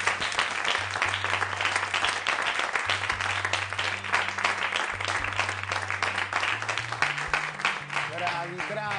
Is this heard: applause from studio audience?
yes